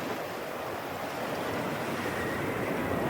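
Ocean waves wash against the base of a cliff in a steady, unbroken roar of surf, with wind noise mixed in and no voices.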